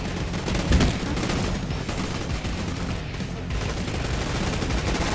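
Gunfire from a double-barrel shotgun in the Roblox game Gun Fight Arena, a dense, continuous burst of loud shots with a heavier blast near the start, rolling on without pause.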